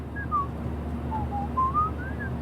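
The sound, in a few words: person whistling in Life is Strange video game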